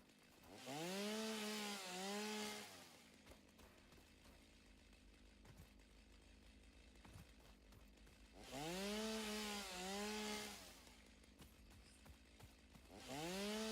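A chainsaw in the video game Satisfactory revs up twice, each time a loud rising whine that holds for about two seconds and then falls away, with quieter idle rumble and small knocks in between.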